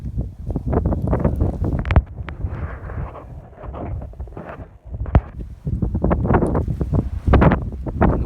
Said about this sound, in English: The wind is just kicking up today.